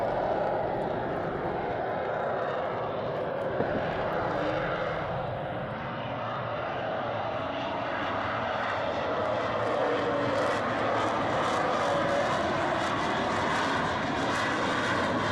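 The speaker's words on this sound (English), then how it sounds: "And then went full afterburn at the end to go back up to full flight speed." A jet aircraft roars past near a runway at full afterburner, a loud sustained rumbling blast that swells and holds steadily for the whole stretch, with no voices.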